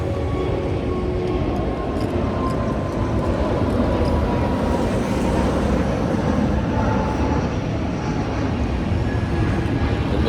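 An Emirates airplane passes behind the speaker, producing a steady, loud jet roar with a faint engine whine that holds throughout, with no talk.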